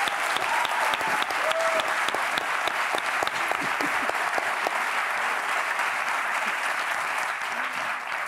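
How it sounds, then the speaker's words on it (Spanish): A television studio audience on a Spanish late-night talk show breaks into dense, sustained applause, loud and even throughout, with a few distinct claps standing out. "Un aplauso para esta chica, que es una máquina"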